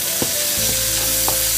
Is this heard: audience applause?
no